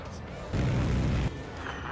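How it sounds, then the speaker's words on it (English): A cannon shot from a PS5 video game, one heavy booming blast lasting under a second, loud and low, rising sharply out of quieter game background sound. "Shoot your cannon."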